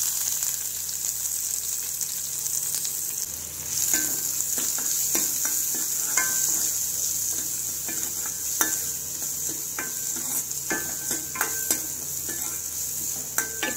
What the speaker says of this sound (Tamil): இப்போ வெங்காயம் வந்து ஓரளவு நல்லா வதங்கட்டும்